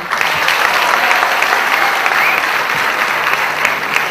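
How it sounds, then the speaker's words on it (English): A seminar audience claps together in sustained, even applause at the close of a budget seminar program, dense and continuous without pause. "A big round of applause from Vaishnav."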